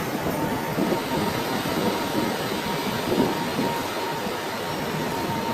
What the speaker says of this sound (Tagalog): Dito na ating train.